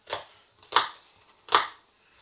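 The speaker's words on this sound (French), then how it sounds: "Là, on va couper nos oignons. Donc, en deux." Three crisp knife chops cut small onions in half on a cutting board, evenly spaced about a second apart, close and clear against an otherwise quiet background.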